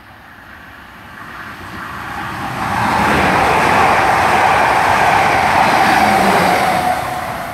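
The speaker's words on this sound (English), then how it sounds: "passing through now, we've got a service to London Waterloo from Poole" A Class 444 passenger train on the Poole to London Waterloo service thunders through Beaulieu Road station, its broadband roar swelling after the first few seconds and holding loud and close until the end, with no voices.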